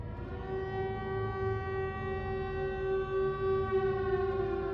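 A loud, sustained air raid siren from the horror film Silent Hill wails at a steady pitch throughout, with low rumbling underneath and no voices.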